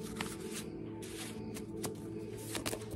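A deck of tarot cards is shuffled close by, producing soft riffling bursts and quick flicks in irregular clusters over a steady low hum, with no one speaking.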